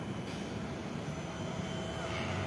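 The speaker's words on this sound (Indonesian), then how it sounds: "pesawat kargo Boeing" Qatar Airways Boeing 777F cargo plane at Lombok International Airport, heard as a steady, broadband engine roar from some distance that holds evenly throughout without breaks.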